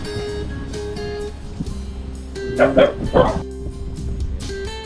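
A dog barks a few times in quick succession nearby at a mountain viewdeck with cabins, over a steady background hum with faint voices.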